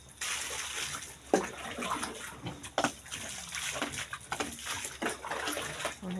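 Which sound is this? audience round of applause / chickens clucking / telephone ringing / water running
water running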